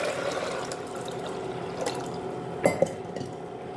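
Water poured from a metal jug into a pressure cooker holding chickpeas, a continuous close liquid splashing and filling sound ending with a couple of sharp clinks.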